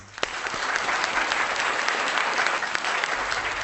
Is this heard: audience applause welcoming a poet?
yes